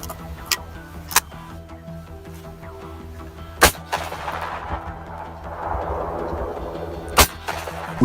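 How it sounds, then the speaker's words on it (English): Blasts from a double barrel shotgun in GTA VI ring out as four sharp, loud, widely spaced reports over a low, quiet background hum. "for shotguns, we have first up the double barrel shotgun"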